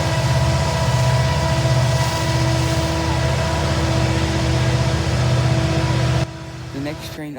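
A Norfolk Southern intermodal freight train led by an SD70ACE diesel locomotive drones steadily at Horseshoe Curve in Altoona, Pennsylvania, a loud, even engine hum with tonal layers that drops off abruptly near the end.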